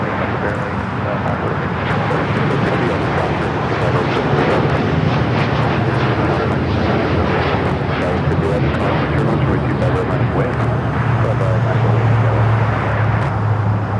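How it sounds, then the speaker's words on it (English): An American Airlines Boeing 787-9 jet takes off from LAX with a sustained, loud, broadband engine roar that holds steady and swells slightly, while faint voices come and go beneath it. "That was American Airlines 169 taking off to Tokyo Haneda on the 787-9"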